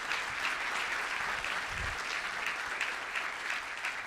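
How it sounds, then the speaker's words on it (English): An audience at a public conversation event breaks into steady, sustained applause, an even wash of many hands clapping at moderate distance with no pauses. "a round of applause for that"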